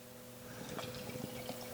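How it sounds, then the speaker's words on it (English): A triple IPA beer is poured into a glass, giving a soft liquid gurgle with bubbly fizz and small splashes, steady and close, with no talking. "And again, it pours like fucking pineapple juice."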